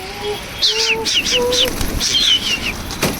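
Pigeons coo and chirp nearby in a repeated pattern, with a few soft whistling tones and light outdoor background noise.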